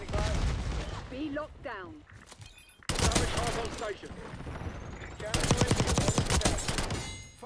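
Rapid video game gunfire comes in two long, dense bursts of sharp cracks, with a quieter stretch between them, while someone talks over the shooting.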